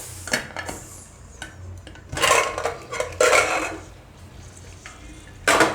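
Boiled potatoes are lifted out of a pressure cooker with clanking metal pots and utensils in bursts of clatter, scraping and knocks separated by quieter pauses.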